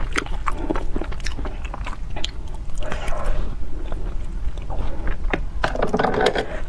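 Close biting and chewing of strawberry Basque cream cake, with soft, moist, squishy mouth sounds and repeated small crunches in an irregular rhythm, with no talking.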